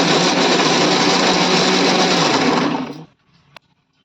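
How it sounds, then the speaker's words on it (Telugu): Mixer grinder blending chopped tomatoes, a piece of ginger and four garlic cloves, a loud steady whirring drone for about three seconds that stops abruptly, then a faint clink. "ఇలా టమాటాలు సన్నగా కోసుకొని అందులో కొంచెం చిన్నగా అల్లం ముక్క, ఒక 4 వెల్లుల్లిపాయలు వేసుకొని ఇలా గ్రైండ్ చేసుకోండి"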